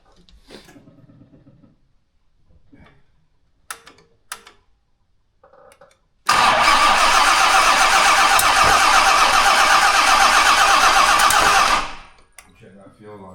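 A Jaguar XJ6 with a starting problem cranks and catches, then runs loud and steady for about six seconds before shutting off, after quieter bumps and handling noises.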